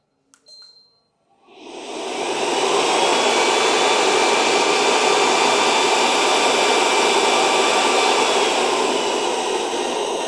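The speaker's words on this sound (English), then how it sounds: "The vacuum is on, and the water is on, and the brushes start spinning." A few faint clicks, then a Gadlee GT30 walk-behind floor scrubber starts up into a loud, steady whirring roar with a broad hiss, vacuum and brushes running continuously and close by.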